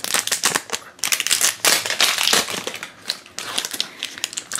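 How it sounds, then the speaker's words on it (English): Plastic wrapping is peeled and crumpled off a Disney Frozen II snow globe blind bag toy, making loud, close, continuous crinkling and crackling in bursts with brief pauses. "let's go ahead and let's take the plastic off"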